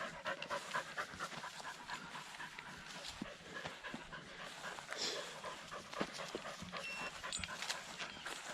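A rescue dog on a walk pants rapidly and steadily close to the ground, quick breathy huffs repeating throughout, with a few faint scuffs and rustles around it and no one speaking.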